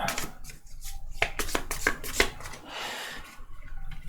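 Tarot cards being shuffled in a series of crisp riffling and slapping bursts, close and fairly quiet, with short pauses between the bursts and no talking.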